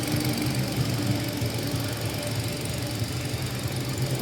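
A Hyundai Accent engine idles after an ignition coil, spark plug and valve cover gasket replacement, a steady low rumble with an even rhythmic ticking, close by and unbroken.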